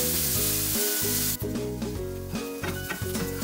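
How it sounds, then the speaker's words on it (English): Onions sautéing in a pan for a Goan mackerel fish cutlet recipe, with a steady close sizzle and frying hiss broken by stirring and scraping, all under background music, with no voices. "Saute this for some time."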